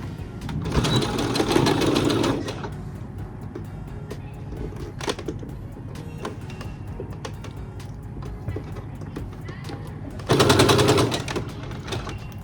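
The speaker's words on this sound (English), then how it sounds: "We are going to sew the side seams together." A sewing machine stitches the side seams of a ruffle top in two loud, fast, buzzing runs, one of about two seconds and a shorter one near the end, with quieter handling noise between.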